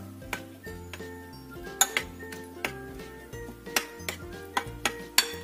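A spoon stirs a dish in a pan for a warung-style recipe after lime juice is added, giving irregular metallic clinks and scrapes against the pan over a steady soft background tone.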